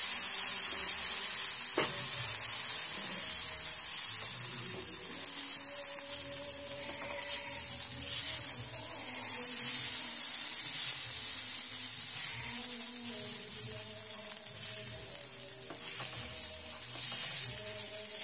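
Green moong dosa batter hisses and sizzles steadily on a hot pan while it is spread out, a continuous bright crackle with faint scraping underneath.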